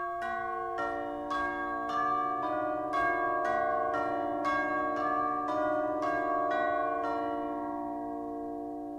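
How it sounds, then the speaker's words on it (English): Large orchestral tubular bells or chimes struck one after another in a slow, even sequence, each stroke ringing out with long sustained metallic tones that overlap and fade away. "Finally, the large tubular bells or chimes."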